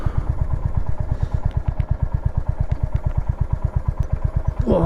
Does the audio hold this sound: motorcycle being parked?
yes